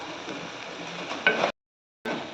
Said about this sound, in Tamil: இப்போ கழுவி வச்ச நுரையீரலை போட்டுக்கலாம் போட்டு நல்லா வதக்கிக்கலாம்